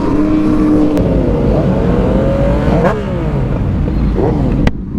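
A Yamaha FZ-09 motorcycle engine revs loudly and close by in Dallas, its raspy exhaust rising and falling in continuous sweeps with no talking.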